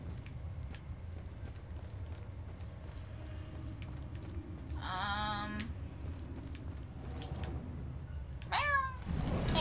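A cat meows twice in the video game Murdered: Soul Suspect, one drawn-out call midway and a shorter one near the end, heard over a low, steady ambient background.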